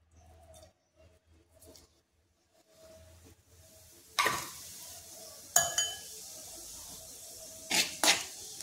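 A spoonful of cumin seeds hits hot oil in a pan while Kolhapuri sabudana khichdi is cooked. A quiet low hum comes first, then sharp bursts of sizzling crackle and metal clinks of spoon on pan, close and alone.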